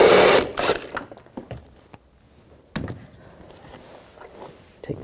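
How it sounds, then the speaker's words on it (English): Clicking and ratcheting of a 16mm socket wrench taking a bolt out during front shock replacement on a 2004-2009 Audi A4 Quattro, an opening burst of clatter followed by sparse clicks and small metallic knocks, close with no talk. "Using a 16mm socket, take the bolt out"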